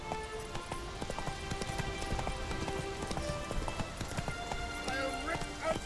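Roach, the horse from The Witcher 3, gallops with a steady rapid clip-clop of hooves, close and continuous, layered with game music and a voice speaking over it.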